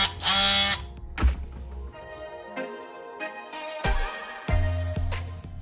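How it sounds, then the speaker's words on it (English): A handheld rotary tool cuts into a plastic Yamaha Raider taillight part, the motor whining in bursts of buzzing grind broken by short pauses and a few dull thunks as the piece shifts, loud and close. "I am going to use my rotary tool because that's what I got."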